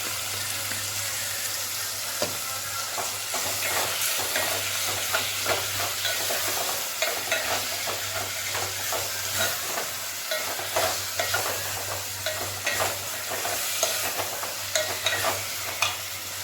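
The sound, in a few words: ginger garlic paste stirred and frying in pan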